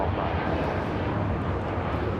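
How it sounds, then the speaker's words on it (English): A Japan Airlines Boeing 787-9 Dreamliner takes off at LAX, a brief, loud, broadband engine roar, steady and close throughout. "This is Japan Airlines, Flight 15, taking off to Tokyo Haneda on a 787-9 Dreamliner"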